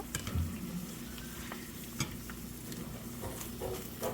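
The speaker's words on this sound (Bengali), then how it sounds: "এ পর্যায়ে আমি ভেজে নিচ্ছি" Vegetable pakoras frying in hot oil over a medium flame, a steady close sizzle with occasional light taps and stirring clinks.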